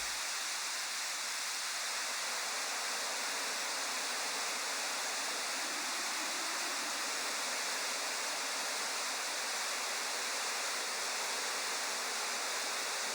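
Synthesized light, relaxing rain shaped with a notch filter: a steady, fairly quiet wash of even hiss that continues unchanged throughout, with no voices.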